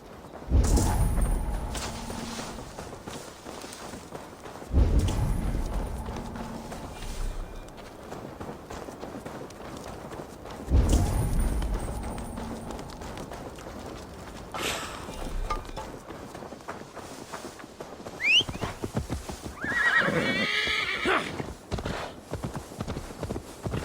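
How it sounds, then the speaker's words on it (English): Horse hooves clip-clop at a walking pace in the video game Assassin's Creed Valhalla, loud and close, with a short whinny near the end. "Now to deliver Magni his horse."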